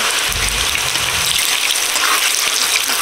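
Dry red chili and five-spice panch phoron temper in hot oil with a loud, continuous, close sizzle that stays unbroken throughout.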